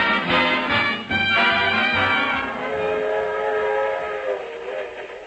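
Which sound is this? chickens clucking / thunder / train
train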